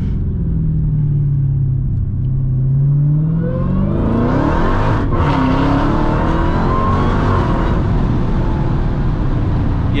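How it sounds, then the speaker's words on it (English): A Dodge Challenger SuperStock Redeye Widebody accelerates hard, its supercharged engine roaring loudly with rising whine and exhaust rumble, pitch sweeping up through gear changes, heard from close inside the cabin. "The exhaust sounds great. You have the supercharger just screaming up front."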